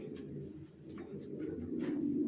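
Long-distance racer pigeons coo in a steady low rumble near at hand, with a few faint chirps and clicks above it and no voices.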